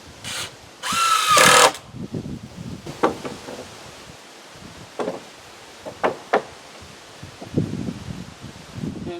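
Screws are driven into deck boards, two per board, with a short burst of a power drill whirring, then scattered knocks, taps and shuffling of boards and tools close by.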